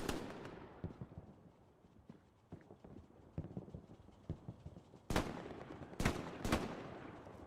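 Gunfire rings out in the World War II shooter Hell Let Loose on the Carentan map, scattered distant shots and small bursts under ongoing background noise, then several sharper, louder cracks near the end.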